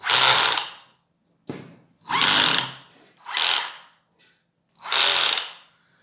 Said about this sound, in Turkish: Şu vidalama bölümünden tıkırtı gelecek.